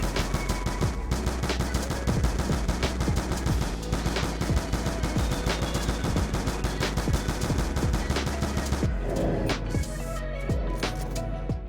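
Rapid automatic fire from an AK-74U in Black Ops 2 Zombies on the Nuketown map, sustained bursts of gunshots crackling nearly continuously for about nine seconds with a brief pause and scattered shots near the end, loud and close.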